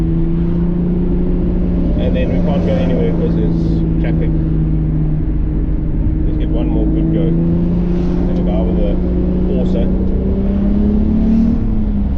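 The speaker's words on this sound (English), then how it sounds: "I can hear the exhaust is even rattling on the body a bit" A VW VR6 drives with a steady, loud engine drone and its exhaust rattling against the body, continuous throughout with people talking over it.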